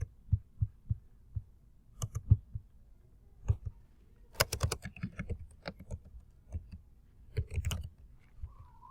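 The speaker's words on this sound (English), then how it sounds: "So I could just type that in too." Quiet, irregular key taps as a web address is entered on a computer keyboard, a few scattered clicks, then a denser burst of rapid typing near the close, no voices.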